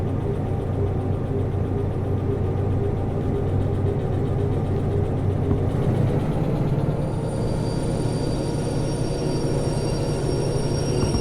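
Locomotive in the Derail Valley train game creeps slowly along the track, a steady low engine drone with faint rolling and wheel noise, continuous and without speech.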